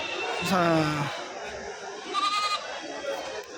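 Goats at the weekly Kadiri livestock market in Andhra Pradesh give two bleats, the first loud and near and the second shorter and fainter, over background voices and crowd noise.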